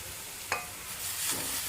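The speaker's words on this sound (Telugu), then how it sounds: "చూడండి ఉల్లిపాయ అయితే దూరగా వేగింది కదా, ఇప్పుడైతే పాలకూర అయితే వేసేస్తున్నాను." Spinach dropped into a pan of frying onions, a soft thump and a burst of sizzle, then a steady crackling fry at close range, with no talking.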